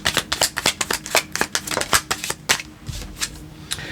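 A newly made oracle card deck is shuffled by hand, a rapid run of crisp, close riffling snaps that ticks along evenly and then trails off into a few slower flicks.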